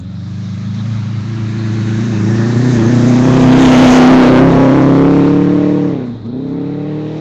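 A Subaru WRX rally car on a gravel stage, its engine swelling as it approaches, revving hard while it passes close by, then dropping away quickly into the distance.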